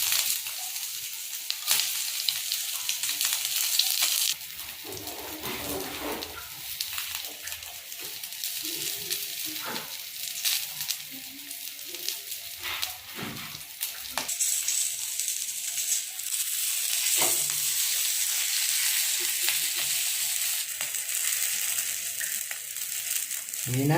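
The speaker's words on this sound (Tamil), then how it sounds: "மீனை 4 சைடும் நல்லா ரோஸ்ட் பண்ணிக்கலாம்." Fish frying in a light film of oil on a banana leaf, a steady close sizzle and crackle running throughout with small stirring and scraping touches, no talk.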